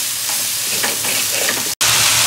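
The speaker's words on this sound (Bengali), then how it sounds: "আমি এটা খুব আঁচ বাড়িয়ে দিয়ে রান্না করছি।" Cabbage stir-fried over very high heat for egg chicken hakka noodles, a steady dense sizzle with scraping stirs, one brief dropout near the end, no talk.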